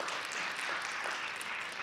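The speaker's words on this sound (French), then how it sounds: "On acclame Jésus de Nazareth." Church congregation applauds in acclaim of Jesus, a steady, dense wash of clapping from many hands, moderately distant and unbroken throughout.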